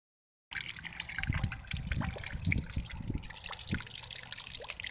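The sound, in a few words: steady flow of water trickling into a bucket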